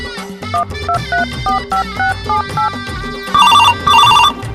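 A mobile phone rings with an incoming call, a repeating melodic ringtone in evenly spaced bursts that grows louder and brighter toward the end, heard clearly and alone.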